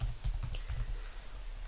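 Quick, light keystrokes tap on a computer keyboard in a short, faint burst of several clicks, then taper off.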